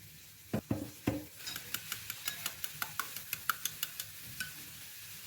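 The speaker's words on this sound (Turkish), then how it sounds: "Rendelenmiş sarımsak, biraz süt, zeytinyağı ve domates salçası ekleyip karıştırın." Spoon stirring a sauce of grated garlic, milk, olive oil and tomato paste in a bowl, giving a few heavier knocks and then a steady run of regular light clinks against the side, close and alone with no talk.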